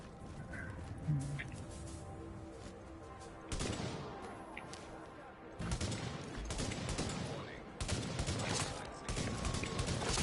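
Gunfire from sniping in the video game The Division, in a PvP Survival match. Sharp, punchy reports come as separate bursts a second or two apart over a low ambient background.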